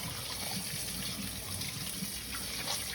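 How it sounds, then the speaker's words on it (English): Tap water running steadily over hands being rinsed at a sink, making a continuous, close, soft gushing splash. "And now rinse. Rinse these off."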